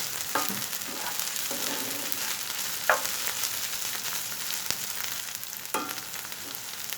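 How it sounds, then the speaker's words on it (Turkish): Garlic sautés in a pan for a zucchini and minced meat dish, a soft steady sizzle with occasional spoon scrapes and a couple of sharper clicks against the pan. "Sarımsağı çok fazla kavurmak istemiyorum bu yemekte."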